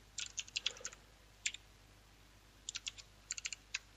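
Computer keyboard typing as code is entered, bursts of quick crisp keystrokes in uneven clusters with pauses between, close and fairly quiet over a low steady hum.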